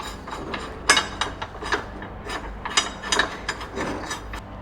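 Nuts and bolts being hand-threaded onto a Subaru Impreza WRX front lower control arm, with quick, close ratcheting clicks coming in uneven bursts throughout.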